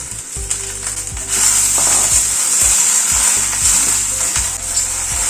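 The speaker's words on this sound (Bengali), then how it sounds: "মিনিট 2 মতো একটুখানি ভেজে নিলাম।" Okra fries in hot oil in a pan, giving a steady, loud sizzle with occasional stirring scrapes and low clunks, and no voices.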